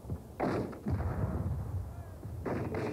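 Civil War artillery cannon fire in a battle sound effect: a deep booming barrage, several heavy blasts overlapping into a continuous rumble, loud and sustained.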